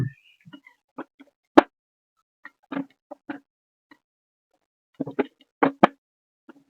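Fish is dropped into a simmering curry and stirred, giving a few soft, sparse plops and light clinks at close range in an otherwise quiet kitchen.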